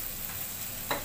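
Food frying in a pan beside broccoli and a sauce being cooked, a steady soft sizzle filling the short moment with one brief scrape or stir near the end.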